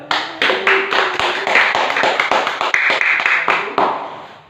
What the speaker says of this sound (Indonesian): tepuk tangan sebelumnya ini tak kasih